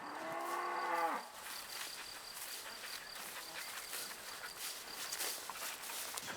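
A cow on a farm raising calves with their mothers gives one loud, close moo, and then soft insect chirping and faint rustling carry on in the open air.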